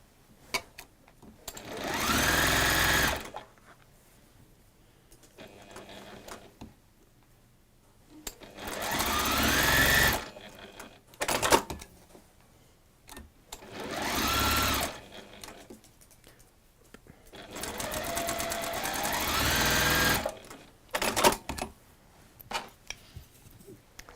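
A sewing machine runs in four separate bursts of several seconds each, stitching down both sides of a strip of fabric, loud and close, with quiet pauses between runs and no talk.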